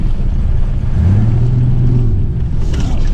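A 1987 Chevrolet S10 pickup drives on gravel, its engine rumbling low and steady with a rising revving tone as the wheels break loose, loud and close throughout.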